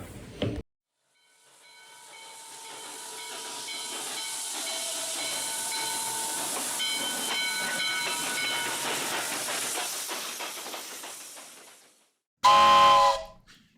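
Steam train hissing at a station, a long broad hiss that swells in, holds steady for about ten seconds with faint mechanical tones, then fades, followed by a short loud whistle-like blast.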